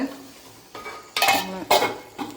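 Chicken roast masala stirred in a pan, with a few distinct metallic scrapes and clinks of a utensil against the pan over a soft sizzle, close and intermittent.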